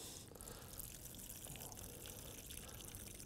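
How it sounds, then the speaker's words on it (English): Water draining off a batch of soaked fishing pellets before a feeder fishing session, a steady close trickle and splash of runoff lasting the whole moment with no talk. "So literally just drain all the water off of them."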